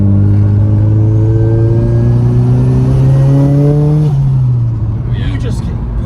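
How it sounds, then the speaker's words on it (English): A 2000 Nissan Silvia S15 Spec R with a big turbo revs close by, its engine note climbing steadily for about four seconds before dropping off, with a faint whistle above the tone. "You hear all the bright noises, the turbo spooling, and you get like an instant response."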